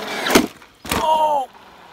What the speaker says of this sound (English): ran smack into that curb